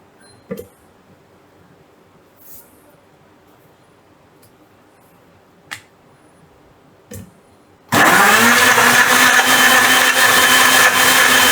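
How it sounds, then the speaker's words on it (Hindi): A loud, steady electric mixer blending bananas whirs into action after a few faint clicks, running continuously with a dense, grinding blade roar. "मैं बहुत जल्दी ही एक ऐसा मिक्सर लेने वाला हूँ जिसमें आवाज़ कम आती है"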